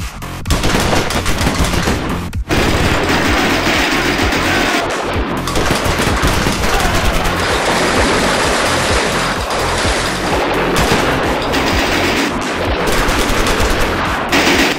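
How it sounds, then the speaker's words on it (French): Loud, continuous gunfight sound effects with rapid machine-gun bursts and dense gunfire filling the whole stretch, broken only by a brief drop early on. "On fait une gunfight, on prend deux bonhommes qui se fight avec des guns."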